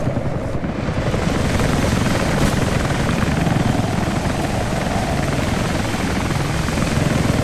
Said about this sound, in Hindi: हेलीकॉप्टर की आवाज आ रही है मेरे को.